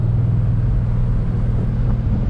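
Chevrolet Silverado Trail Boss pickup engine running with a steady, loud low rumble throughout, no distinct start-up surge, close to the microphone.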